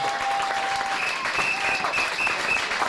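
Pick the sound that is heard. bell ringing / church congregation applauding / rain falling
church congregation applauding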